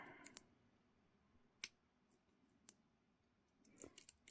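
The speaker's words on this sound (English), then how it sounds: "I'm gonna cut off the bottom here" Scissors cutting the bottom off a sheet of paper while decorating a jar, heard as a few faint, isolated snips and clicks spread over a quiet stretch, with a cluster of small snips near the end.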